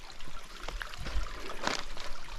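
A small stream trickles and babbles steadily nearby along a rural road in Korea, with soft irregular splashes over a continuous watery hiss.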